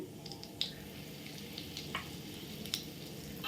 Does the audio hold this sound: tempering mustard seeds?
yes